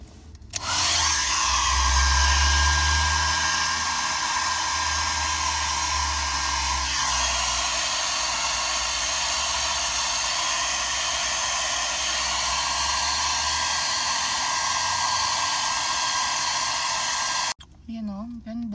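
A hair dryer blows loudly and continuously at close range for most of the clip, then cuts off abruptly near the end.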